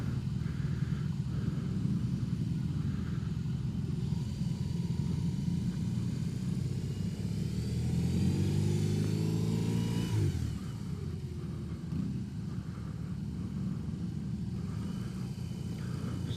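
A 2021 BMW R18 motorcycle's engine running with a steady low rumble, rising briefly in a short rev before settling back to idle, close and alone.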